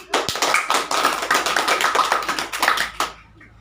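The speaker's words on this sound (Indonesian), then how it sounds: "tepuk tangan" A class of schoolchildren claps hands together in a dense, steady burst of sharp overlapping claps that fades out at the end, with no voices over it.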